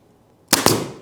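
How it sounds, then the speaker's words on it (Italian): A pneumatic nail gun drives two brad nails in quick succession into a wooden Christmas gift box, two sharp, loud, close bangs about a tenth of a second apart after a quiet start. "Adesso sparo 2 punti con la mia sparachiodi, perché in questo modo faccio più veloce"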